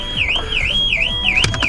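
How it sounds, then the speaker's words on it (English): A 2013 Volvo XC90's car alarm sounds while the vehicle is being programmed with VIDA, giving a loud, close, wavering siren that rises and falls in steady repeating cycles. "These alarms don't last very long, so sorry about that."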